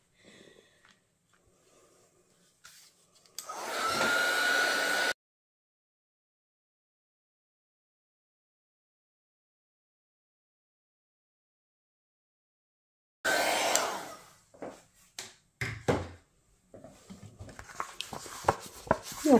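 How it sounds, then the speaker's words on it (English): A heat gun dries a mixed media greeting card, giving two loud bursts of steady blowing hiss: one short blast early, then a long stretch of silence, then a second blast that tails into softer handling noises. "So I'm just coming in with my heat gun and I'm going to give that a blast."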